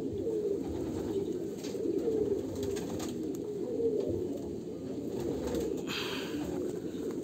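A ringed domestic pigeon coos in low, rolling, repeated phrases that run steadily throughout, close and clear, with faint background noise and no speech.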